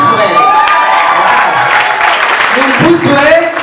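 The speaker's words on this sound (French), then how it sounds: "On applaudit pour elle." Wedding guests at an official marriage ceremony applaud and cheer together, a loud, dense crowd roar with shouting voices mixed in throughout.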